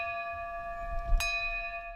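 A single memorial bell rung in the Capitol Rotunda for Kentuckians who died of COVID-19 and in recent storms, heard as a clear sustained ringing tone with one soft strike partway through, alone with no talk.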